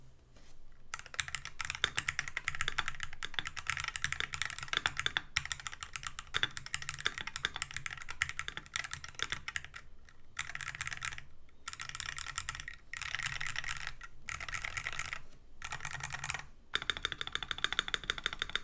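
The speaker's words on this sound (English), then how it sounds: "the switch has a rather clacky, high-pitched sound from the box that is then pronounced even more by the ABS keycaps" Rapid typing on a keyboard fitted with TTC magnetic switches and ABS keycaps, a dense stream of clacky, high-pitched key presses with short pauses, close and crisp with no voices.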